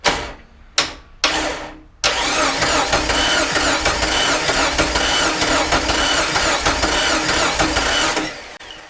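A Jeep Wrangler with a failed head gasket cranks in three short bursts of starter whirring, then catches and settles into a loud, steady idle before the engine cuts off near the end.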